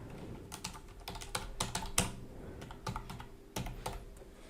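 Typing on a computer keyboard while entering a password, a quick irregular run of light key clicks with a few sharper taps, close and clear with no talk.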